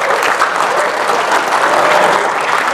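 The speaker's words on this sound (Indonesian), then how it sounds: "Tepuk tangan buat beliau." Sustained audience applause fills a disaster-preparedness briefing hall on megathrust earthquake readiness, a dense, steady wash of many clapping hands with no gaps.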